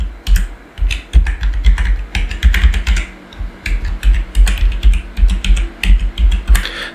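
Rapid typing on a computer keyboard while a PayPal address is entered, close and clear, with irregular bursts of clicky keystrokes and short pauses throughout.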